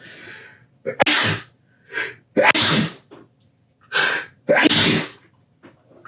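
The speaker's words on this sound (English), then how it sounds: "I got to sneeze" Several sharp sneezes burst out one after another, close and loud, separated by short quiet gaps and small breaths.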